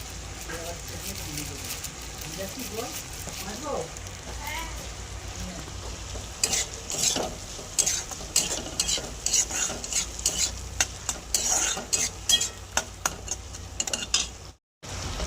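Cashews and raisins frying in a pan hiss steadily while a spoon stirs and scrapes, growing into repeated sharp clatters in the later half, close and alone.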